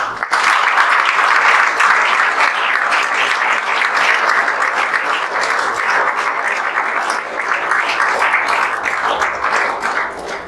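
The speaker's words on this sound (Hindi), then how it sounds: "आप लोग ताली बजा दें" Loud, sustained applause from a standing audience at a celebration for coaching-class students' JEE Main 2024 results, dense clapping close up holding steady for about ten seconds before tapering slightly.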